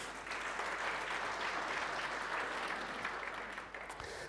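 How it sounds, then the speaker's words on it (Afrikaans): An audience claps for birthday celebrants, producing dense, sustained applause that stays steady and fairly loud for several seconds before easing slightly at the end. "ons kan vir julle hande klap gee"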